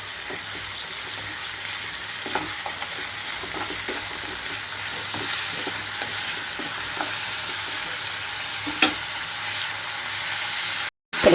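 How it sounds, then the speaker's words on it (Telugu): Chicken sizzles with onions in a pan over a high flame, stirred now and then: a steady, close frying hiss broken by short scraping stirs, with no talking. "క్లీన్ చేసి పెట్టుకున్న చికెన్ వేసేసుకుంటున్నాను. హై ఫ్లేమ్లో ఉంచి ఒక్కసారిగా కలుపుకుంటున్నాను."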